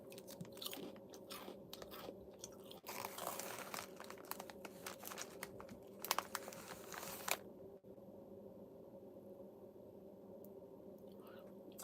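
Crunchy Drizzilicious snacks are chewed close to the microphone, with a dense run of crisp bites and crunches over several seconds, then quieter mouth sounds.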